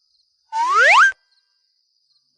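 A phone chimes once with a short, bright rising tone as a text message arrives, clear and close in a quiet room, followed by silence and the start of another tone.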